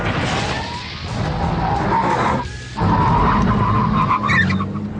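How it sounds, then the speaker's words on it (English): Pagani Zonda supercar with carbon ceramic brakes stopping hard from about 125 mph, loud tire squeal and skidding with a rising engine tone, a brief gap, then more screeching. "And then, when you hit the carbon ceramic brakes,"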